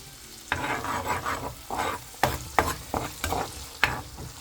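Buttered shrimp cooking in a pan as soy sauce goes in: a soft background sizzle under a run of utensil scrapes and knocks against the pan, close and moderately loud, with no voices.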